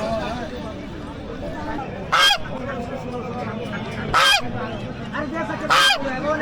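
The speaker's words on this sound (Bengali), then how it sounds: "এই তো রাজহাঁস নিয়ে আসছি, এই 5টা।" Domestic geese honk in three loud, close bursts at a busy bird market in Lalbagh, with people talking and market chatter steadily underneath.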